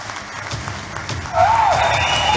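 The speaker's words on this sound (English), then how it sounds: "Round of applause." Applause from the audience at a book launch, steady and moderately loud, swelling after about a second with a brief whistle-like tone rising over it.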